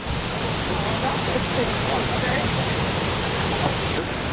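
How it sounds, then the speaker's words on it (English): Steady, loud rushing roar of falling water, continuous and broadband with no breaks, close to a waterfall in Bali. "there's actually 2 waterfalls here"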